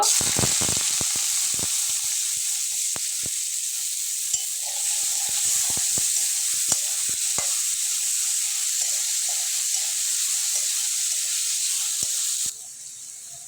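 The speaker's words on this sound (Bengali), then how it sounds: "পেঁয়াজগুলো কড়াইতে দিয়ে একটু ভেজে নেব" Chopped onions hitting hot oil in a wok, a loud continuous sizzle with sharp crackles and spatters early on, settling into a steady hiss before dropping off abruptly near the end.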